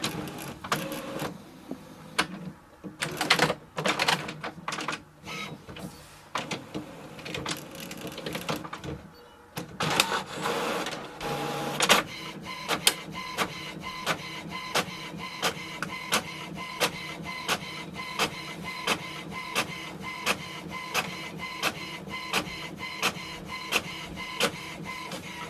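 An HP Envy Photo 7858 inkjet printer whirs and clicks as it feeds and prints a document, then settles into a steady rhythmic back-and-forth of the print head, close and continuous.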